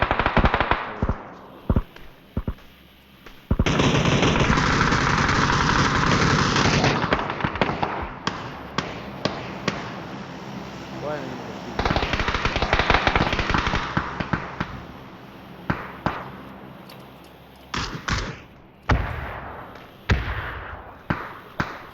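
Gunfire from an M4 rifle and a sniper in the PC game PUBG: loud, rapid automatic bursts and sharp single shots crack one after another, with a dense sustained volley in the middle and no talking.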